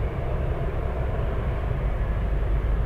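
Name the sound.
aircraft taking off from runway 33 at Anchorage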